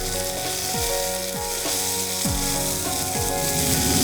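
Cumin seeds and curry leaves crackle in hot oil, a loud continuous sizzle close up with a few low knocks and scrapes from the pan, no voices.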